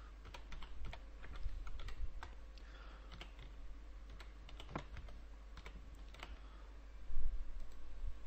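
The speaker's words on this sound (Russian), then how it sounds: "В данной ситуации я пишу адрес электронной почты." An email address being typed on a computer keyboard, a steady stream of close, light key clicks with a few louder taps toward the end, under a constant low hum and with no one talking.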